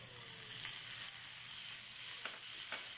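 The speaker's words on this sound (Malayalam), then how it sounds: "നമുക്കിതിനകത്തേക്ക് നമ്മൾ എടുത്തു വെച്ചിരിക്കുന്ന തക്കാളി ഇട്ട് കൊടുക്കാം." Tomatoes tipped into a pan of frying onions and green chillies for an egg tawa burger filling give a steady, close hiss of sizzling oil, with a few faint stirring scrapes near the end.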